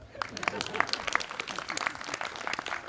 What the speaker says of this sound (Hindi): हाँ, ताली बजा सकते हैं इस बात।